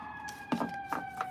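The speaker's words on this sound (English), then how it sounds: "Oh, sorry. There's a siren." Outdoors a siren holds a steady, faint tone in the background while nearby clicks and bumps sound over it.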